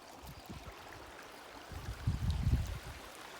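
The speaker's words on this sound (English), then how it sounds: "But there's this beautiful creek running right here in the middle of Death Valley." A small creek runs through Death Valley at dusk, a soft, faint burble of flowing water that swells into louder splashing gurgles midway before settling back, heard alone outdoors.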